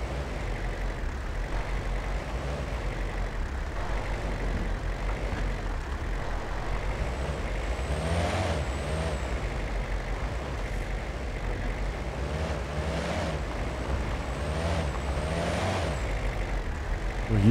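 Vehicle driving toward grassland in the hunting game Way of the Hunter, with a steady engine drone and rumble throughout, its pitch rising and falling at intervals as it shifts, with no voices.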